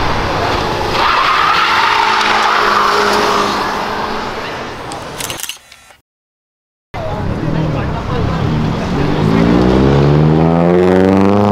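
A car pulls away hard from a street car meet, engine roaring loud and close with tire squeal, then a brief gap of silence before another burst of revving and a rising engine whine.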